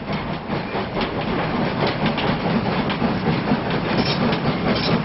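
A short train hauled by a North Eastern Railway tank engine and an Austerity 0-6-0 saddle tank rolls past on a heritage line, giving a steady, fairly loud rumble of wagons and clattering wheels with no voices.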